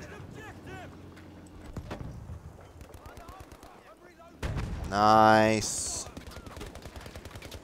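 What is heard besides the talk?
French assault rifle gunfire in Battlefield V video game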